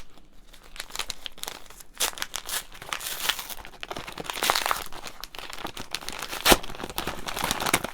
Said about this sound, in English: This one I could probably tear open.